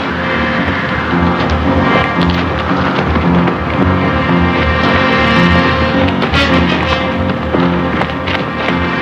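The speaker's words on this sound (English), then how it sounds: "The thunder must have spooked him." Thunder rumbles through steady rain in a 1960s Western drama, loud and continuous with heavy low-end rolls and scattered sharp cracks over a dense music-like bed.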